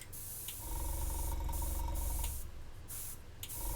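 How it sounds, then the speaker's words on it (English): An airbrush sprays paint to pre-shade tabletop miniatures, giving a steady close hiss with a low compressor hum underneath and brief breaks as the trigger is released. "where you spray the airbrush from beneath"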